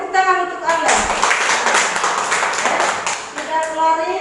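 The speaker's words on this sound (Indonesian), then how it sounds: "Oke, tepuk tangan untuk Alen." A class of children claps for a classmate in a school lesson, a short burst of rapid clapping set between a teacher's speech at the start and end.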